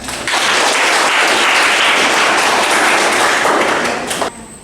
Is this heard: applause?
yes